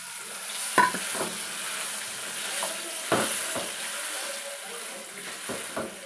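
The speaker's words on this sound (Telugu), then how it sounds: "పచ్చడి తాలింపు వేసుకున్నాము." Dried red chillies and curry leaves sizzle in hot oil for a tempering poured over ridge gourd chutney, a steady close frying hiss broken by a few sharp crackles and stirring clicks, with no talking.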